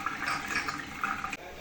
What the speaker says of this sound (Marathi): आता ही जे नळ आहे याची धार किती छान त्याच्यामध्ये जात आहे आणि पूर्ण पाणी मोकळं झालेलं